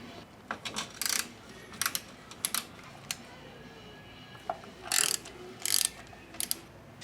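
A ratchet on 10mm oil pan fasteners of a 2003 Toyota Camry gives short bursts of quick clicking, close and fairly quiet, separated by pauses with light metallic handling in between.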